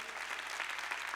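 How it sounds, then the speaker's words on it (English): Steady applause from a church audience at a sermon, dense and continuous across the whole short stretch, fairly quiet and even with no voice over it. "Clap for that one."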